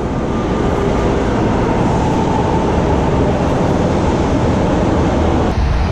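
A steady, loud roar of a train and rail traffic at Estação da Luz station in São Paulo, a dense broadband rumble that continues unbroken with no speech.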